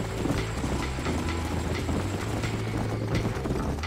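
Horse hooves clip-clop at a steady trotting rhythm in Red Dead Redemption, close and moderately loud over a low rumble of ambient game noise, with no one talking.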